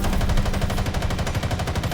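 Rapid, sustained machine gun fire from a tank battle in War Thunder, a loud, continuous stream of closely spaced shots running the full two seconds with no talk over it.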